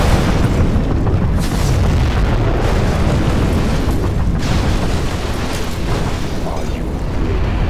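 A nuclear missile detonates in Command & Conquer Generals Zero Hour, a massive continuous roaring blast rumbling loud and heavy for several seconds without a break.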